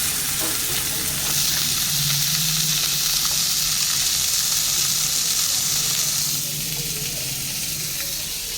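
Fish fries in a pan with a steady, loud, hissing sizzle that runs without a break throughout, and occasional stirring noises come through close by.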